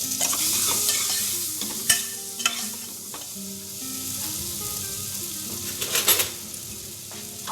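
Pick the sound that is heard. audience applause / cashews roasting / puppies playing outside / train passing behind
cashews roasting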